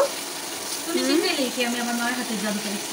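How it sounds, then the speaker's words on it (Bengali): Macaroni being stirred in a frying pan at home, giving a soft, steady sizzle and scrape close by, while someone talks over the cooking. "তুমি যে নাড়াচাড়া করতেছো"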